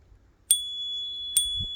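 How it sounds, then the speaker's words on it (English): The bicycle bell on a Haibike e-bike rings twice, close up, each a bright metallic ding followed by a long clear ringing tone. "Comes with a bell."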